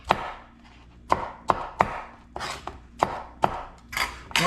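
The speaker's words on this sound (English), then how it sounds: "Chop these up." Knife chopping cucumbers on a cutting board, about ten close, crisp strikes in an uneven rhythm, alone without talk.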